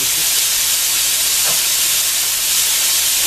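Sausage sizzles in a pan as a loud, constant, hissing fry that stays even throughout with no pauses or voices.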